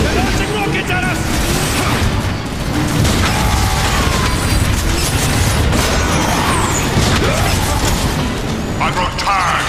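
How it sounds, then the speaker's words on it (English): Rockets launch and blow up in the Transformers War for Cybertron video game, with loud booms, bursts and metallic mechanical clatter running continuously under shouted voices. "They're launching rockets at us!"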